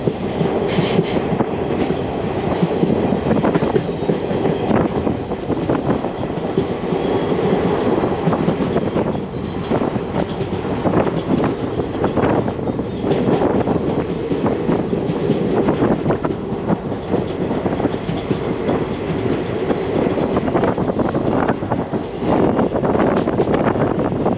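A train rumbles steadily along the rails, slowing into Paravur railway station, with a continuous roar and faint clatter, heard from inside, with wind buffeting the microphone.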